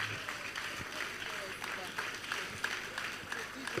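Audience clapping at a youth entrepreneurship and empowerment programme event, a fairly quiet, even spread of many hands with scattered sharper claps, under a speaking voice.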